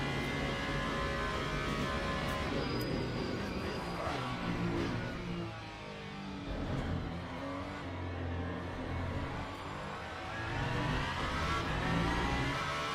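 An Alpine race car engine in the game Le Mans Ultimate drones and revs continuously, its pitch rising and falling through gear changes, loud and close with no voices.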